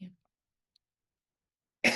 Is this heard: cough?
yes